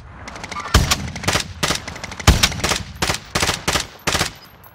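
Heavy automatic gunfire in the shooter game Call of Duty: Warzone, loud, punchy bursts in quick succession with sharp cracks at irregular intervals, close by and with no talking over it.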